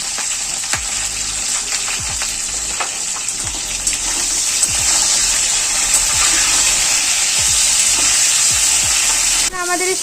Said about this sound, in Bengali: আমাদের এই ফুলকপিটা ভাজছে